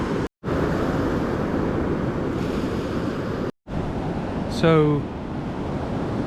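Ocean surf breaking on a beach during spring surf fishing, a loud continuous wash with strong wind noise on the microphone, briefly cut by dropouts, while a person says a word over it.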